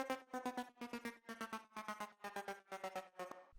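A choppy tech house synth processed with a bitcrusher, reverb and filtering that cuts the highest and many low frequencies, playing fast rhythmic stabs in short bursts, clear and alone.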